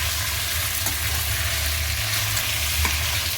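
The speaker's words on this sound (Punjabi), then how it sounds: "ਹੁਣ ਆਪਾਂ ਇਹਨੂੰ ਸਰੋਂ ਦੇ ਤੇਲ ਦੇ ਵਿੱਚ ਥੋੜਾ ਜਿਹਾ ਭੁੰਨਦੇ ਆ" Food roasts in hot mustard oil with a continuous, close sizzle and fine crackle, steady and even without pauses.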